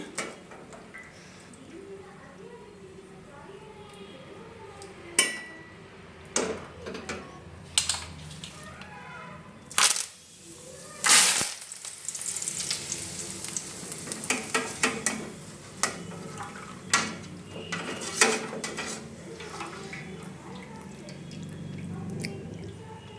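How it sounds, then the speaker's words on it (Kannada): Curry leaves dropped into a hot pan for fried avalakki, with sizzling and scattered stirring clicks and scrapes close by, some sharp spatula knocks standing out over a steady frying hiss. "ಈಗ ಕರಿಬೇವು ಹಾಕ್ತಾಯಿದ್ದೀನಿ"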